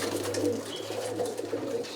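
Roller pigeons coo softly inside a breeding box, with repeated low, rolling calls close by over a faint steady hum.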